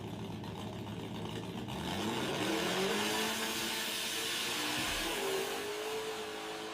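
AI-generated sound effect of a grandma riding a mobility scooter: a steady electric motor whine with a rising and falling pitch over a constant rushing noise, loud and continuous throughout.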